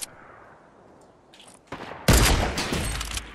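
Sniper gunfire in Fortnite Battle Royale starts quietly, then sharp shots crack out and build into a loud, close barrage over the last second and a half.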